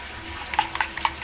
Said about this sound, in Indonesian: Selanjutnya siapkan penggorengan untuk menggoreng atau mendadar telur.